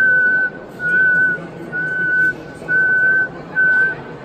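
A person whistles in imitation of a nightingale's sobbing song, giving five clear, steady whistled notes of similar pitch with short gaps between them, close and loud, with no talking.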